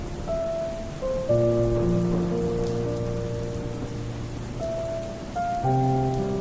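Steady heavy rain hisses throughout at an even level, with tonal music layered over it and no speech.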